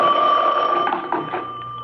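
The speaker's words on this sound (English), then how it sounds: "my phone rang." An old-style telephone bell rings loudly and steadily, then trails off, a radio drama sound effect heard on its own.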